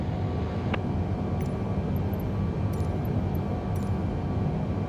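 A Boeing 787 lands in Microsoft Flight Simulator 2020 on runway 29 at New Orleans, its engines a steady, low, broadband roar with faint high clicks and no talk.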